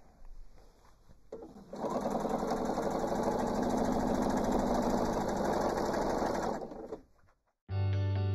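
Sewing machine stitching the facing onto an art quilt, running in one steady, continuous burst of rapid mechanical chatter for several seconds, close and clear, with quieter handling noise before it and no talking.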